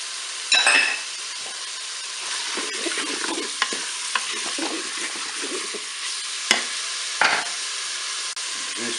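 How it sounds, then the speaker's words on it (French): Beef pieces and onions frying in melted butter in a Cookeo pot: a steady hiss of sizzling with spoon stirring and occasional clinks against the pot, close and fairly loud, no voices. "je vais mettre mes morceaux de bœuf. Je vais ajouter mes oignons."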